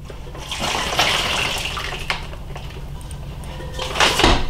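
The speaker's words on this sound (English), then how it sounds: "As I'm pouring the brine in, the bag is closing up on me a little bit" Water and turkey brine poured into a bag for a smoked turkey, a steady splashing, gurgling stream that runs throughout and grows louder near the end, with a faint rustle of the bag.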